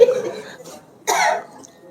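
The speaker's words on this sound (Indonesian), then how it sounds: "Jangan batuk-batuk lagi" Someone at an Islamic religious study session on tauhid coughs twice, close and fairly loud: a short first cough, a pause, then a harsher second burst.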